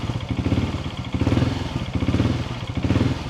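A 2026 KTM 690 Enduro motorcycle engine with a full aftermarket exhaust idles loudly and close, its revs rising and falling in gentle repeated swells.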